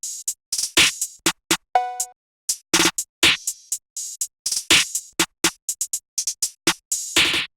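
A programmed drum pattern with sharp snares, an open hi-hat that cuts itself off and a tonal cowbell plays in a syncopated rhythm, crisp and loud with no bass under it.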